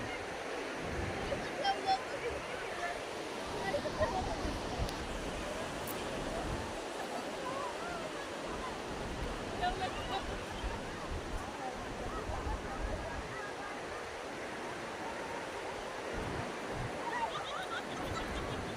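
Sea waves wash continuously onto the shore with a broad, steady roar, and people speak faintly in the background.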